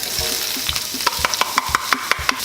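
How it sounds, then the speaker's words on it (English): Pepper and onion frying in olive oil in a pan, a steady sizzle broken by regular scraping stirs of the utensil, close and fairly loud with no talking. "I have some olive oil already in the pan. I've got some pepper and onion in here."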